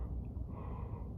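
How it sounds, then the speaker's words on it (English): A man yawns once, a long, breathy, faint exhale with a slight throaty tone, heard alone and close. "Look, I keep yawning"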